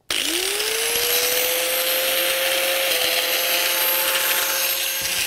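An angle grinder runs on a race car part, spinning up to a steady high whine that holds loud and continuous, with a slight pitch dip midway, close to the listener.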